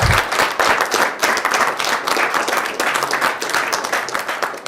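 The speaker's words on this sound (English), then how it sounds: "Give him a big round of applause." Dense, sustained applause from a school quiz-competition audience fills the hall for the host, loud and steady throughout with no voices above it.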